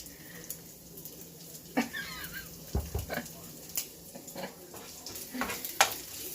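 Minced garlic frying in a pan is stirred, giving a soft, steady sizzle broken by scattered scraping and clinking strokes of the utensil, quiet and close.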